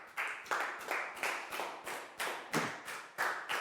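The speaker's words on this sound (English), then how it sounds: "a big round of applause for Stu" A Year 4 maths class gives a classmate a round of applause, with about ten evenly spaced group claps in a steady rhythm, fairly soft and clear.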